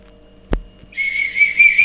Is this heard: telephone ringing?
no